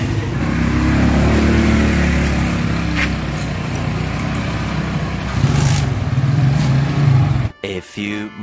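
A Rusi Gala 125 scooter fitted with a sidecar runs on a road test at night, its small engine droning steadily with a rise in revs midway before cutting out near the end.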